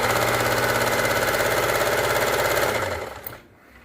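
A sewing machine stitches the fall onto a silk saree with a loud, close, rapid mechanical chatter that runs steadily, then winds down and stops near the end.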